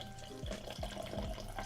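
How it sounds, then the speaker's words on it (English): A drink being poured into a glass, a continuous liquid stream with rising gurgling pitch sweeps repeating as the glass fills, close and moderately quiet. "Pouring a drink, by the way, if you're wondering what that noise is."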